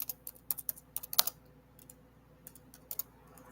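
Computer keyboard typing in quick irregular bursts of clicks, close and fairly quiet, thinning into a few scattered keystrokes after a short pause, with no voices.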